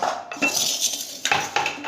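A metal cooking pot is handled in a kitchen with a few sharp clanks and clinks, close and fairly loud, in separate bursts with no talking.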